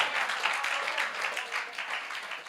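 A church congregation applauding, with dense, sustained clapping filling the space at an even level from start to end.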